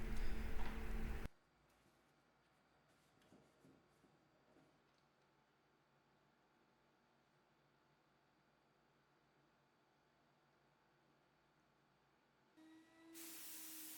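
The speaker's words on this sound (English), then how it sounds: "I'm just spraying BIN primer here" A spray gun spraying BIN primer on furniture hisses in loud bursts at the start and end, with a long quiet stretch of faint background noise between them.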